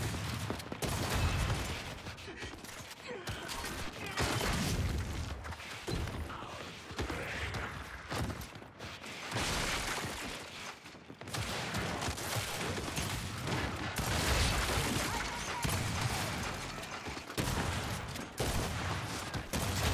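Continuous gunfire in Gears 5 free-for-all play as Kilo Squad Baird, dense bursts of rapid shots and mechanical clatter running steadily for the whole stretch at a moderate, fairly even level, with no voices.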